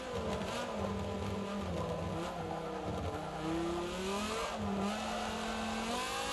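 A Ford race car's engine whines and revs in Forza 7 on the Top Gear test track, pitch sliding up and down through gear changes as it brakes and accelerates, steady and close.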